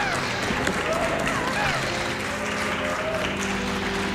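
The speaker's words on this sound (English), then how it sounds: "Big round of applause here for Connor" An audience at a large speedrunning event applauds for a runner, the clapping blended with loud background noise and some voices and cheers throughout.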